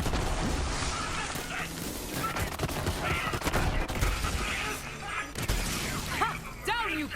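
Barrels are shot and blown apart in Borderlands 3, a dense run of gunfire, shattering and explosive booms that continues almost without pause, loud and cluttered in the game mix.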